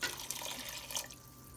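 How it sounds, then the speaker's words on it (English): Water poured from a tap or jug into a cooking pan of matar paneer gravy with frozen green peas, a short, close, steady splashing pour that thins out toward the end. "And now I'm gonna add water."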